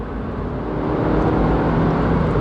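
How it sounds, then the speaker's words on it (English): The engine of a 2018 Suzuki Swift Sport hatchback revs hard in a loud, close, sustained drone that climbs a little in intensity partway through. "Engine's pretty revvy"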